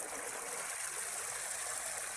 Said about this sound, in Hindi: ये पानी निकल के आया है, ये फुल भर के आया है।